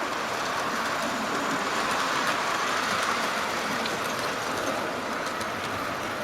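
Model buffet train running along a model railway layout, a steady continuous rumble and hiss that holds evenly throughout at moderate level with no voices.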